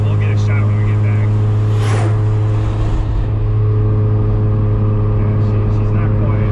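A big-turbo Mazda RX7 engine drones steadily and loudly from inside the car, a constant rotary hum with strong low harmonics that holds throughout, while voices talk faintly underneath.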